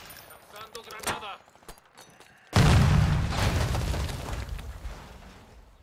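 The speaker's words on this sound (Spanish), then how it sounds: "¡Lanzando granada!" Grenade blast in the combat game Call of Duty: Modern Warfare II, a sudden loud boom midway that rolls into a long rumbling decay, after a stretch of voices and faint gunfire.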